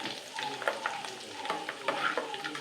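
Diwali mixture snack frying in oil with a steady, close crackling sizzle, broken by occasional stirring scrapes.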